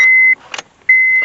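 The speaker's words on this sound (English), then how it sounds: "I'm gonna turn on the ignition." Turning on the ignition of a 2007 Honda Civic with a no-crank, no-start fault sets off a steady electronic warning chime that drops out briefly and then resumes, clear and close, with no talking.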